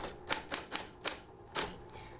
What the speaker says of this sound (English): We all still type, but fewer and fewer of us do so using a typewriter.